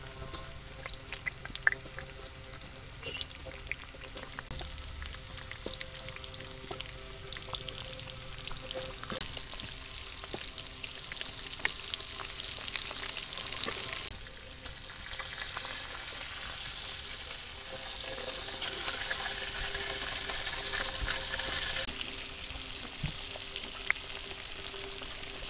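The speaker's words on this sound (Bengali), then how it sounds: "এই তেলে হইলো যে পুর দেওয়া পটলগুলো এগুলো ভাজতে নেব।" Stuffed pointed gourds (potol) sizzle and crackle steadily in hot oil in a pan, a continuous close frying hiss with occasional stirring clicks, no voices.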